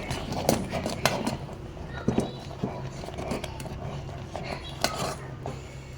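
A spoon scrapes and knocks against a pot while ragi mudde dough is stirred and mashed, giving irregular clinks and thuds over a soft background, close and moderately loud.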